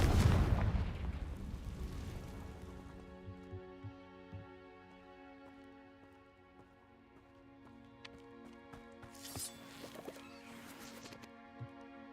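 A Confringo blasting curse cast in the video game Hogwarts Legacy, a loud booming explosion at the start that rings out into a fading tonal hum, followed by smaller crackling impacts later.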